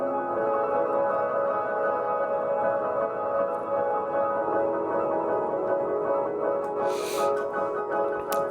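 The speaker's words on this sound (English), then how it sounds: "so you hear that pad in the background." Sustained synth pad in the background of a music track, a steady dense wash of tones holding evenly throughout, with a brief bright shimmer near the end.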